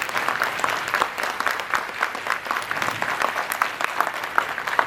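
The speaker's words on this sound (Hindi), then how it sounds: "हाथ मतलब तालियां खड़े होकर" Audience applauding at a school Independence Day event, a dense, steady patter of many hands clapping at moderate distance throughout, without talk.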